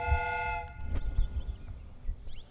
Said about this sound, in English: Steam whistle is used.